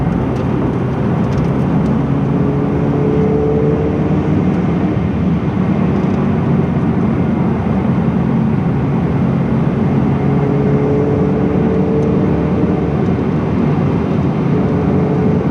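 A Ferrari 488 Pista's engine drones in a loud, steady cabin roar under acceleration, with faint rising harmonic sweeps over constant road noise and no voices.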